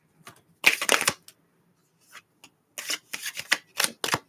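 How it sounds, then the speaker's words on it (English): A deck of cards is shuffled up close during a personal reading, with one quick riffle followed by several rapid bursts of flicking and snapping cards, and no voice. "This is the last shuffle."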